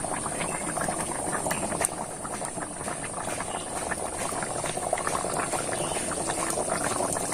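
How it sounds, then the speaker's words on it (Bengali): A pot of chicken curry with potatoes boils hard at a rolling bubble, a dense steady burble of liquid heard up close and alone, with no voices. "কিন্তু একদম টকবক করে ফুটছে"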